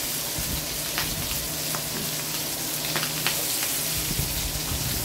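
Garlic and onion sauté in hot oil for pinakbet, giving a steady, close, bright sizzle with scattered pops and light spatula scrapes throughout, no voices over it.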